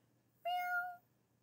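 A human voice imitates a cat's soft, plaintive meow, one drawn-out, rising then falling mew heard alone against quiet.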